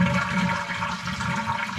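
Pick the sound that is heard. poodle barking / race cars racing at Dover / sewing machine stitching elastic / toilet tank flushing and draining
toilet tank flushing and draining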